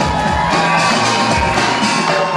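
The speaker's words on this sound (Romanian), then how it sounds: "Vă rog aplauze!" A crowd at a student freshman ball in a large hall fills the room with dense applause mixed with cheering, whoops and shouts, loud and continuous from start to finish.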